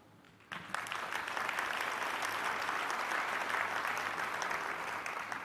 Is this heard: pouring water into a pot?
no